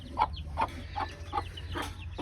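Desi hens and their chicks cluck nearby, about five short, evenly spaced calls in a loose rhythm over a faint, low background.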